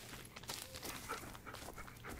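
A dog in the horror video game Blair Witch pants softly and quickly in short breaths, faint and near, with small whimper-like sounds and no speech.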